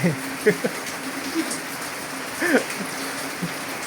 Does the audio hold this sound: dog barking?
no